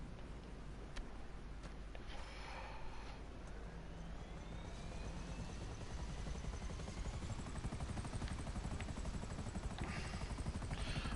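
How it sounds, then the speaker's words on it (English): Helicopter in the video game GTA 5 whirring steadily throughout, a continuous rotor and engine drone at moderate level with no talk over it. "Let's take the helicopter this time."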